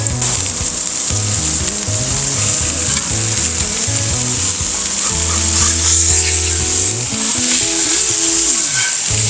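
Bacon and 50/50 beef and sausage smash burger patties sizzle steadily on a flat-top griddle, a loud continuous frying hiss with crackles and no talking.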